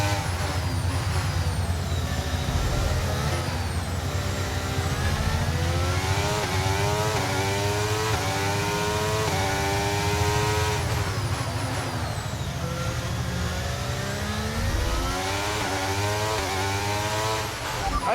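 A race car in a racing game roars steadily with its engine, pitch climbing through repeated upshifts in long rising sweeps, loud and close throughout, with no voice.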